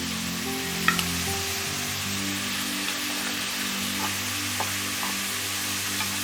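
Chicken with turmeric and chilli powder fries in a kadai, a steady soft sizzle with a low hum beneath and a few faint scrapes and taps of stirring scattered through.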